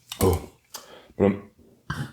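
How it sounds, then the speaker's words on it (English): Several short, throaty burps while eating Domino's spinach and feta and Pacific veggie pizza, three or four close bursts separated by brief pauses. "I'm probably due for another burp."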